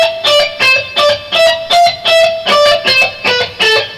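An electric guitar scale is picked at a slow tempo, a run of distinct, evenly spaced notes with a bright, slightly distorted rock tone, played alone in a late-1980s rock technique lesson.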